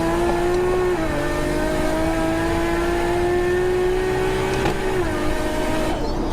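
A race car engine holds a steady high drone, its pitch dropping briefly at each quick gear change, loud and close throughout with no talking.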